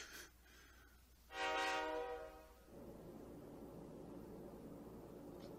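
A passenger train horn from the video game Persona 3 Portable sounds in one loud, sustained harmonic blast, then gives way to a steady rumbling rush of the train rolling along, with no voices.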